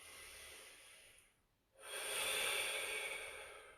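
Slow, deep breathing during a full-body static stretching routine: a soft inhale, a brief quiet pause, then a longer, louder airy breath close to the listener.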